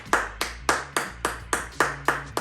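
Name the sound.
round of applause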